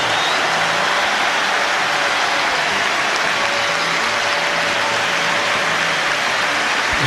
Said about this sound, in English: The crowd erupts. They love this.